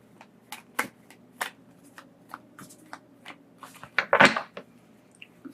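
Tarot cards being shuffled by hand give scattered crisp flicks and riffles, building to one dense, louder burst near the end, close-up with no talking.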